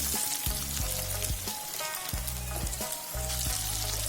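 Potatoes fry in hot oil in a pan for matar paneer, a dense loud sizzle with repeated rhythmic scraping and clunking as they are moved about, close and without speech.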